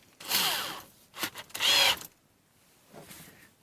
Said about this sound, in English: just put it in your drill.